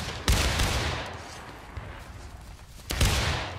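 Two loud, close musket shots about two and a half seconds apart crack out in the Civil War shooter War of Rights, each trailing into a rumbling echo over a steady background of distant battle noise.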